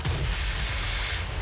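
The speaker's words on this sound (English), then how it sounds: "They're just explosion spells." Explosion spells go off in a Total War: Warhammer battle involving Marienburg land ships, a dense low rumbling roar of blasts that stays loud and steady throughout.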